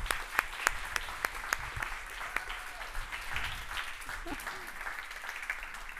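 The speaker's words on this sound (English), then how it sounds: "A big applause for these 5 finalists," Audience at an award ceremony applauds the five finalists, steady moderate clapping with a few sharp nearby claps standing out and faint voices underneath.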